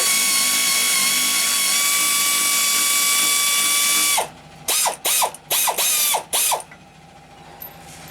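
A ratchet loosening exhaust bolts on a 2010 Toyota Tundra 5.7: a long steady mechanical whine gives way to a series of short, sharp ratcheting bursts, close and loud, separated by brief pauses.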